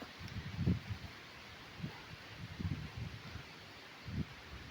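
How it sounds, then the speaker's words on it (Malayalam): Very strong wind gusts through trees during a storm that brought trees down onto a car, coming as a steady low roar with rustling surges every second or so, no voices. "കാറ്റ് ഭയങ്കര അതിശക്തമായ കാറ്റ്"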